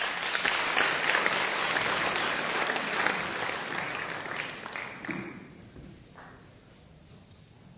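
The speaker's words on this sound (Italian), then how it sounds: "accogliamo con un applauso" Applause from an audience at a book presentation in Padua, welcoming a professor of modern history. The clapping is dense and steady, then thins out and fades toward the end, leaving a few scattered claps.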